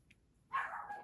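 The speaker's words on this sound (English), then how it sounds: "dogs are barking" A dog barks in a short burst of yaps in a quiet indoor room, fairly close and loud after a near-silent start, with no talking.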